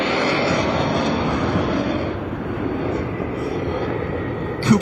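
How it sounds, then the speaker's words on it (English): A jet aircraft, likely a T-38, flies directly overhead near a rocket launch viewing site, producing a loud, steady broadband roar that holds for several seconds and swells briefly at the end. "They just flared an afterburner right over top of us."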